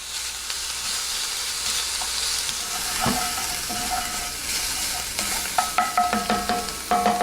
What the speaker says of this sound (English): First thing I'm going to do is cook down some of that leftover hamburger meat I had from the patty I made.